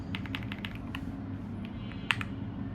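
Keys pressed on a Royal Kludge L75 mechanical keyboard, heard as a quick run of soft clicks, a pause, and then one sharper keystroke, set against a steady low hum.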